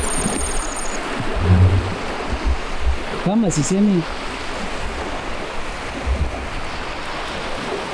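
Sea waves at Korba, Tunisia wash steadily in the background, with a broadband surf and wind wash running the whole clip while someone speaks briefly up close over it.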